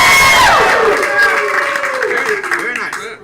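A live improv show audience erupts in loud, close whoops and cheers with scattered clapping, a brief burst that fades over about three seconds.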